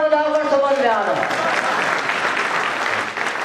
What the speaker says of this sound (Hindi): तालियां बजाकर समझ में आ रहा